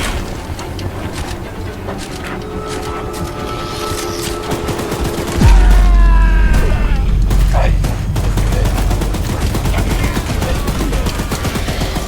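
A mounted gun fires rapid, sustained bursts at the monster train Charles in the video game Choo-Choo Charles. The gunfire is loud and close, with a heavy boom midway, and continues without letup.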